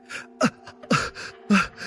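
A man pants after being beaten in an audio drama, with three sharp, close gasping breaths spaced evenly and quieter breathing between them, no words spoken.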